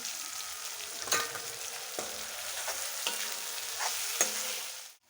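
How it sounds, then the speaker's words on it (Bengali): Garlic paste and slit green chillies frying in a pan with chicken, hissing and sizzling steadily with a few sharp clanks of a spoon stirring, close and moderately quiet, no voices. "রসুন বাটাটা দিয়ে দিচ্ছি চেরা কাঁচা লঙ্কাগুলো দিয়ে দিচ্ছি"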